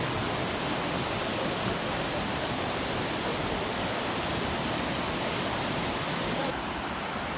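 Loud, steady rushing of a river in Nepal, a continuous broadband roar of fast water without pauses.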